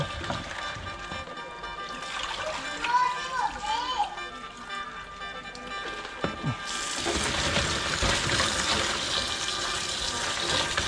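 Live crabs being rinsed by hand in a basin of water, with sloshing, splashing and running water that grows louder and steadier partway through, while someone talks over it.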